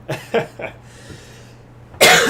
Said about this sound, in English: excuse the cough